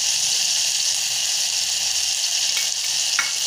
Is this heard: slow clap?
no